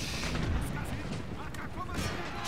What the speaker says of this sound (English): Cannon beat those guys back.